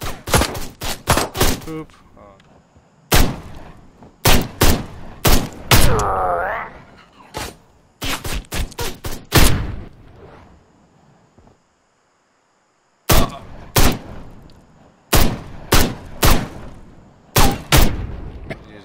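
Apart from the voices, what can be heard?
gunfire in the video game Ride to Hell: Retribution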